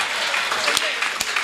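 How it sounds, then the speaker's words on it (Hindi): An audience at a Hindi humor and stress-relief event claps briefly, the applause mixed with voices and a couple of sharp, close claps. "तालियां इनके लिए।"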